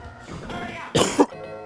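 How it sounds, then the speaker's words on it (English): A person recovering from an illness coughs twice in quick succession, a short harsh burst close to the microphone, amid the background sound of a Wario Land 4 speedrun. "I'm getting over a sickness, so if I cough a little bit, I'm sorry."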